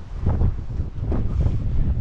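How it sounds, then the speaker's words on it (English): Strong coastal wind in Portinatx, Ibiza, buffets the microphone in a steady low roar, gusting and swelling throughout with no clear voices. "it's very windy"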